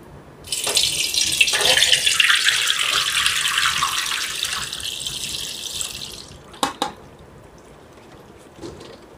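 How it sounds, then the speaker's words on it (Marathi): Water pours from a running tap into a sink or vessel, draining off wash water from soaked bamboo shoots in a home kitchen; a steady loud rush for about six seconds, then it stops, followed by a few faint clinks and drips. "हे पाणी काढून टाकायचं आहे"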